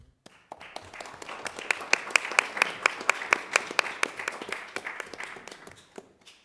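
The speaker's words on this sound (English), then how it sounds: "we owe him a round of applause" Audience at a Marlboro County Council meeting gives a round of applause: many hands clapping in a dense, steady patter with sharper individual claps standing out, swelling quickly, holding, then thinning out and fading.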